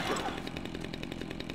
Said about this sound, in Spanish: Una sierra, me va a llevar la sierra